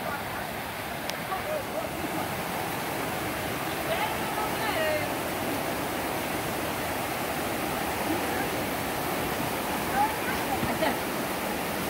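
River water rushes steadily as people wade across it, a broad continuous wash close by, with voices talking intermittently over the flow.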